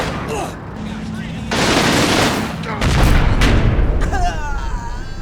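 Gunfire and explosions in the World War II strategy game Combat Mission Final Blitzkrieg, with dense bursts of rifle and machine-gun fire overlapping heavy booms, loud and continuous with rising intensity.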